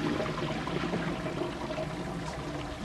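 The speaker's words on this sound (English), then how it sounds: "Sounds like toilet water." Steady running water from a toilet in the video game Dead Island 2, a continuous trickling and pouring wash that stays even and fairly quiet throughout, with no voices.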